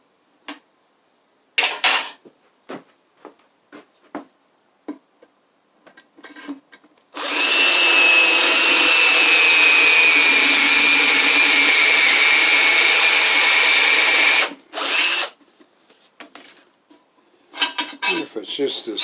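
A drill whirs continuously for about seven seconds in a home workshop where a Shopsmith accessory is being built, loud and close, with scattered clicks and handling knocks before and after.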